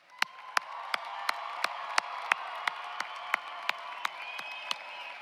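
An audience applauds graduates at a commencement ceremony, steady crowd clapping with one sharp, evenly paced nearby clapper standing out, fairly faint overall.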